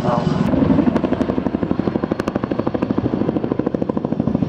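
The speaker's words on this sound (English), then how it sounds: "demonstrate the new utility of the Chinook helicopters to fly sideways" An RAF Chinook twin-rotor helicopter flying at an air show, its rotors beating in a rapid, steady thump over a loud engine roar, with an announcer speaking over the noise.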